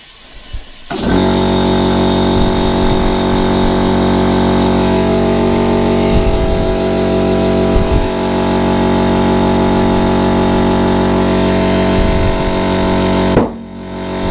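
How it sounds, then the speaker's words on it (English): A loud air compressor starts abruptly and runs steadily for about twelve seconds while inflating a car tyre being fitted by hand, with a droning motor hum and faint rhythmic pulses, then cuts off near the end. "Sorry about the noise of the compressor."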